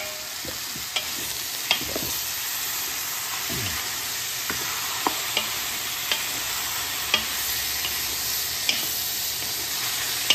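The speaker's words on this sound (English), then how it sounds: "In a fry pan, we put a little olive oil, extra virgin, and the beef. Start to saute the beef." Beef sautés over high heat in a fry pan with a little extra virgin olive oil for a Cuban-style beef stew, with a dense steady sizzle and occasional sharp clicks and scrapes of stirring throughout.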